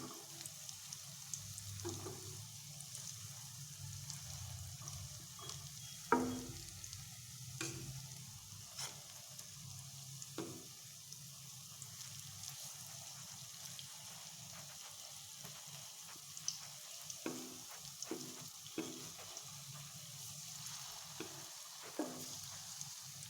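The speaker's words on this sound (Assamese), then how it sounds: "পিঠাকেইটা হাই ফ্লেমত ভাজিলে বেয়া হৈ যাব পাৰে, সেইকাৰণে ল' ফ্লেমতে ভাজি আছোঁ।" Pitha rice cakes fry on a low flame in a pan, giving a steady soft sizzle with occasional sharp stirring clicks and scrapes scattered through, close and fairly quiet.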